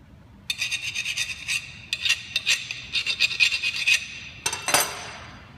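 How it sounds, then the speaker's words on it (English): Short bursts of grinding as a tack weld is ground off metal on a horseshoe cross project, a series of quick rasping passes with brief pauses, fairly close. "I need to grind off there"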